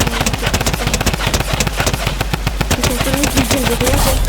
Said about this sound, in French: on prend la fameuse arme et on lui met KO le mec